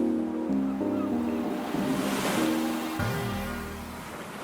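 Sea waves wash steadily and continuously. The roar is broad and close, with a low tonal hum running under it and no voices.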